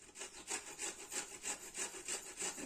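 Fresh Indian gooseberries (amla) are grated for murabba in a steady rhythm of about eight close, rasping strokes, each a short bright scrape with no talking.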